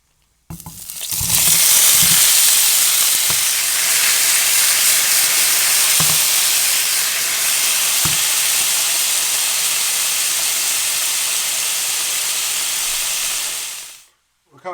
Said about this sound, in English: Hot pan, avocado oil, some diced up pineapple.